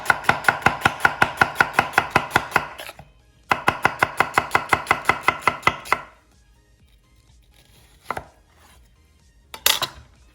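A knife chops vegetables on a cutting board in two fast, even runs of crisp, loud knocks, then a pause with a couple of isolated thuds and clatters.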